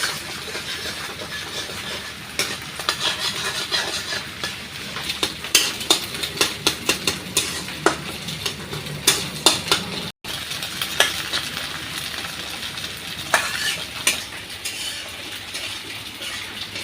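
Eggs seasoned with salt fry in a pan while being stirred, giving a steady sizzling hiss broken by repeated scraping clicks of a utensil against the pan, close and alone without speech.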